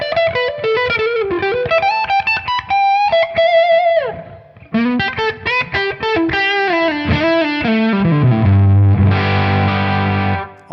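An electric guitar on its neck pickup played through a Tonex amp-modeling pedal with a distorted lead tone, a fast run of single notes with bends and a sustained chord at the end, loud and up close.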